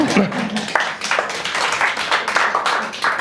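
A conference audience applauds with brisk, crowded clapping that rises and falls in waves, a voice talking over it.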